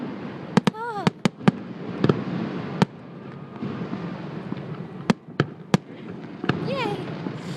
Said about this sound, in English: just hearing the after explosion sounds like thunder